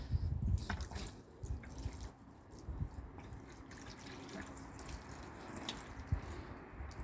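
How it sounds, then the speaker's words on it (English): Water poured onto a houseplant, heard as soft, quiet splashes and dribbles with a few small drips at irregular moments. "Let's water the plant, shall we?"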